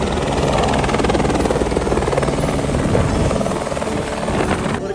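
Helicopter near Kedarnath in the Himalayan mountains, its rotor and engine roaring loud and steady throughout, close by with a continuous chopping drone and no talk.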